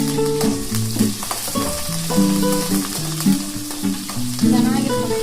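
Onion and curry leaves sizzle in hot oil for upma, a loud, continuous close crackle with frequent stirring knocks and scrapes. Faint background music runs beneath it.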